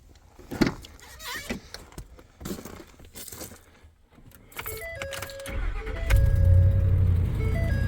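A few clicks and shuffles, then a starter whirs and a Ford F-350 6.2 V8 catches after a coil replacement, settling into a loud, deep idle up close.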